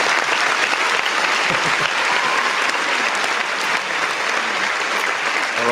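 A studio audience at a live game-show broadcast claps in a dense, steady burst of applause that stays loud for several seconds.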